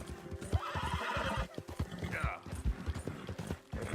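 A horse in the video game Red Dead Redemption 2 trots with a steady clip-clop of hooves and lets out a clear whinny partway through, close and prominent over faint background sounds.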